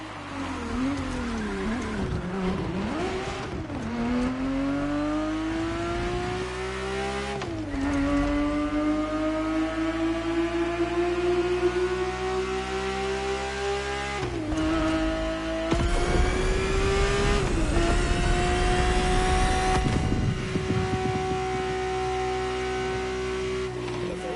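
A Ferrari GTB4 racing car in The Crew Motorfest video game, its engine note climbing steadily through each gear. The pitch drops sharply at every shift in a continuous, close roar with no talking.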